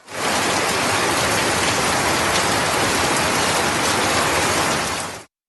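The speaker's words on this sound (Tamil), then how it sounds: "சேலம் மாவட்டம் ஆத்தூர் மற்றும் அதன் சுற்றுவட்டார பகுதிகளில் 1 மணி நேரத்திற்கும் மேலாக கனமழை பெய்தது." Heavy rain pours steadily in Attur, Salem district, Tamil Nadu, a loud, dense hiss of drops hitting surfaces that holds constant for about five seconds before cutting off abruptly.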